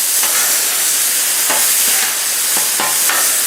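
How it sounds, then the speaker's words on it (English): Steak frying on a Blackstone flat-top griddle, a loud, steady close sizzle and hiss throughout, with a few faint scraping stirs underneath and no voices. "I'm going to let this go for about a minute, 2 minutes or so, and just let it fry"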